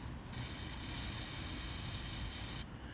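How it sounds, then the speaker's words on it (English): Carburetor cleaner sprayed from an aerosol can into the jet of an MTD snowblower carburetor, a steady close hiss lasting nearly three seconds before cutting off. "So I'm gonna try to spray this out with this carburetor cleaner here."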